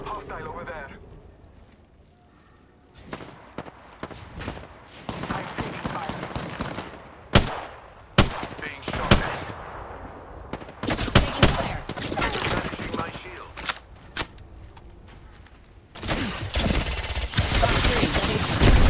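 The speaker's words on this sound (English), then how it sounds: "Smart bullet firing." Smart bullet gunfire in Apex Legends: bursts of rapid shots, loud and close, come in clusters. Game voice lines and other battle noise sound between the bursts.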